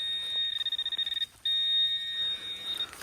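Metal detector signal tone while digging a target, a high, piercing electronic pitch that first chops into rapid stuttering pulses, breaks off briefly, then returns as a steady tone with a few quick dropouts near the end.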